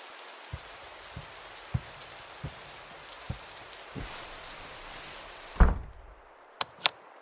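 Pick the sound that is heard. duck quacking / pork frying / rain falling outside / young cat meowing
rain falling outside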